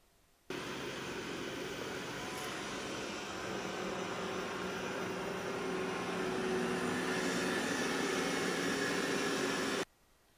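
A Roborock S6 Pure robot vacuum running on carpet, its motor giving a steady, even whooshing hiss that starts abruptly, holds for about nine seconds with a slight rise in intensity, then cuts off.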